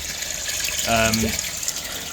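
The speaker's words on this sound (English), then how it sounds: "water is now going back in through the soak away through the tank" Water rushes steadily back into a septic tank through the soakaway after heavy rain has left the ground wet. The continuous gushing is close and fairly loud, with a brief voice-like sound partway through.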